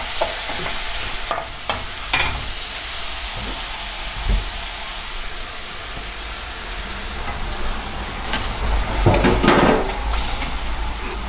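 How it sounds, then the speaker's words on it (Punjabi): Cumin seeds crackle and fry in very hot oil, a steady broadband sizzle throughout with a few sharper pops and spatters, close and moderately loud with no talking. "ਇਹਦੇ 'ਚ ਪਾ ਦਿੰਦੇ ਹਾਂ ਹੁਣ ਥੋੜ੍ਹਾ ਜਿਹਾ ਜੀਰਾ, ਕਿਉਂਕਿ ਤੇਲ ਬਹੁਤ ਗਰਮ ਹੋ ਗਿਆ"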